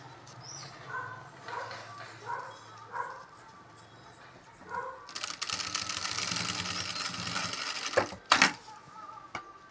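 A sewing machine stitches a jute bag, a fast mechanical rattling run in the second half with a couple of sharp knocks near the end, after quieter handling sounds and faint scattered tones earlier.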